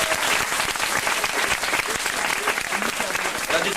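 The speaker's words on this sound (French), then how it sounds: "on les applaudit quand même?" Steady audience applause at a book signing by the comedy troupe Les Robins des Bois, dense clapping from a nearby crowd lasting throughout with some voices mixed in.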